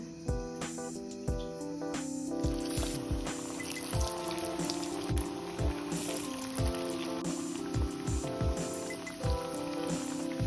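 Green pea and leafy vegetable masala vadas deep-frying in hot oil, a continuous dense crackling sizzle, close and even, broken by scattered pops and bubbling bursts throughout, no talking.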